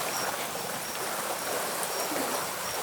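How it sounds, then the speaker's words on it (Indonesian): Rain pours down outdoors in a steady, dense hiss of drops that continues evenly throughout, with no voices. "Wah, malah hujan ini."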